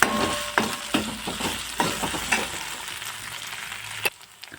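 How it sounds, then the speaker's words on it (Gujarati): Hot green chillies frying in oil for a Rajasthani-style papad curry make a close, steady sizzle, broken by repeated clinks and scrapes of stirring. "એક નંગ જેટલું લીલા મરચાં અમે તીખા લીલા મરચાં લીધા છે એને પણ હું ગોલ્ડન બ્રાઉન સુધી કૂક કરી લઈશ"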